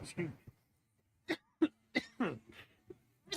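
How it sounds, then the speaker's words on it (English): A man on a live sports broadcast gives several short, close coughs and throat-clearing bursts in quick irregular succession, with brief pauses between them. "I have to cough."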